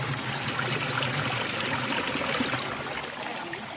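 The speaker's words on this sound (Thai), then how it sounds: "ฟังเสียงน้ำไหลนะครับ" Water from a mountain stream near its source flows in a steady, full rushing and trickling wash that stays fairly loud and even from start to finish, with no voices.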